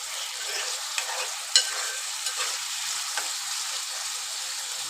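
Capsicum masala with added tomatoes sizzles and fries steadily in a pan while being stirred, a dense hiss with a few small scraping clicks, close and continuous, no voices.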